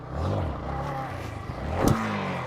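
A motorcycle revs and then lands roughly after a jump, with engine noise rising to a sharp thud and clatter near the end, followed by a low idling rumble.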